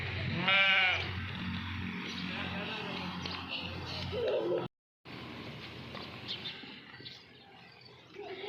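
Goats bleat on a farm in India as they are untied from the shade and led along, with one clear wavering bleat near the start, further calls and someone talking throughout.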